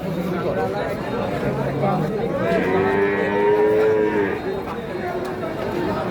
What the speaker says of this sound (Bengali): চলুন আমরা আরো গরুগুলা দেখতে থাকি